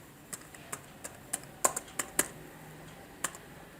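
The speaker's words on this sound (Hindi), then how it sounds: "तो यहाँ पे भी मैं अपना पासवर्ड री एंटर कर देता हूँ।" A password tapped out on a computer keyboard: a dozen or so crisp, close key clicks in an uneven rhythm, with a brief burst in the middle and a last click after a pause.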